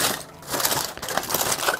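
Smoked pork belly unwrapped at close range: continuous crinkling and crushing of wrapping material, loud and dense throughout, with no talk.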